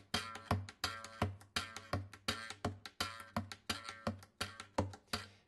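Slap percussion on an acoustic guitar, with the thumb held down on a low string so each hit sustains into a droning bass tone. Steady repeated thumps run for several seconds, close and soft, with no talk.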